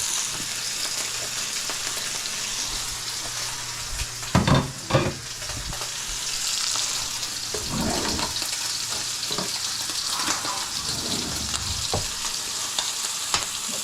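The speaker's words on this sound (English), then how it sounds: "And we're gonna drop the steak in. Now remember, drop away from you, especially with grease. And we're gonna let that cook." A steak sizzles and sears in a pan with butter and hot grease, a steady frying hiss throughout, with a few louder spatters and pops near the start and clatter of the pan now and then.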